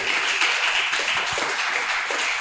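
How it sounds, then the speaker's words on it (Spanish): A church congregation claps and applauds during a service, a dense, continuous burst of many hands that stays loud and steady throughout. "Fuerte ese aplauso al que vive."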